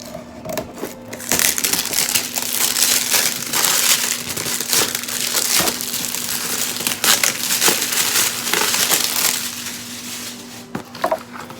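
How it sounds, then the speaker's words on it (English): Unboxing a Liberex automatic makeup brush cleaner and dryer: continuous close crinkling, crumpling and rustling of packaging with scattered sharp clicks and taps, steady and fairly loud throughout with no talking. "Let's go unbox this one."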